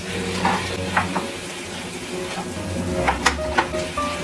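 Chicken breast and vegetables sizzle in a frying pan while a utensil stirs them, with a few light clinks against the pan over steady frying.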